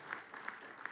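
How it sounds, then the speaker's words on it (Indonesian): A church congregation claps during a worship service, a short burst of brisk, even hand claps with a soft crowd wash behind, fairly distant and faint. "Boleh kita kasih tepuk tangan buat Tuhan yang luar biasa."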